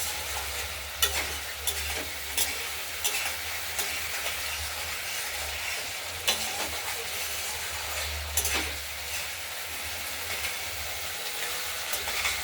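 A spice masala for a katla fish curry fries in oil in a pan while being stirred, with a steady low sizzle and scraping, punctuated every second or two by sharp clinks of the spatula against the metal.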